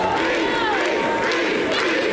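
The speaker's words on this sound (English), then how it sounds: "This crowd firmly behind the Beast as we're getting ready to get this contest underway" A women's wrestling crowd roars and cheers loudly and without a break as the main-event championship match is about to begin.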